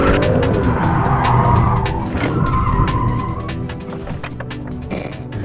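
A BMW 1 Series M Coupe with short wheelbase and six-speed manual slides sideways, tyres skidding and scrubbing loudly over a rough engine roar, close and continuous, fading slightly toward the end.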